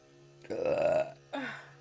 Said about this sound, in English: Excuse the burping.